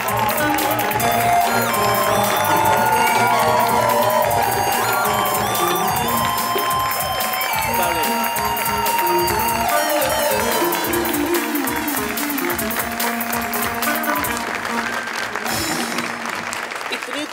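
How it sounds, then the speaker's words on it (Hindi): A studio audience on a Pakistani talk show bursts into loud, sustained applause and cheering to welcome a singer, the clapping dense and steady throughout with occasional whoops and voices mixed in. "आप लोगों की भरपूर तालियों में"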